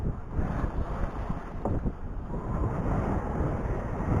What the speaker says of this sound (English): I'm not seeing white caps, but I'm in 1 to 3 foot waves.